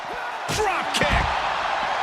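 Wrestling drop kick slam in a WWE 2K video game, two sharp impact thuds about half a second apart, loud over crowd noise.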